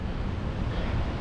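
Fast white water rushing at a waterfall in Teesdale, a dense, steady roar of falling water with wind buffeting, loud and continuous with no talking.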